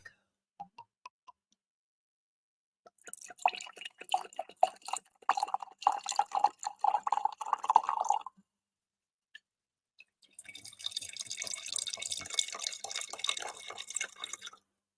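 Robert Mondavi Private Selection wine poured into a glass, a close liquid trickle and splash in two bursts, separated by a brief pause, in a quiet room.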